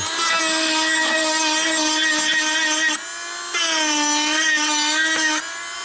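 A cordless power tool whines steadily at a high pitch during car bumper repair, dipping briefly midway before running on, loud and close with no talking.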